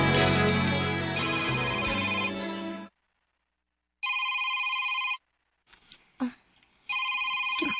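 A telephone rings in short electronic bursts, two clear rings separated by silence, following a stretch of music and room sound with brief faint noises between the rings.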